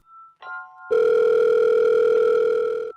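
A telephone line rings out as a steady, unbroken electronic tone, loud and close, preceded by a couple of brief softer beeps, with no voices present.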